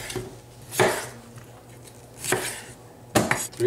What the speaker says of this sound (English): I'm going to cut up the red pepper